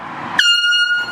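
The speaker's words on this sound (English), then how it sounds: "Do you like air horns" A single loud air horn blast sounds up close, a sharp sustained blare lasting over half a second before cutting off.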